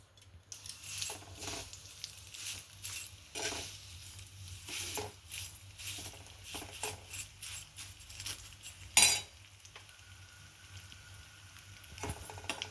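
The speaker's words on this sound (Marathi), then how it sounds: "आता मी त्याच्यात शेवया सोडते. शेवया पहिले भाजून घेते." Vermicelli stirred while roasting in ghee in a pan, soft sizzling under repeated scraping and clinking of a spoon against the metal, close and fairly quiet.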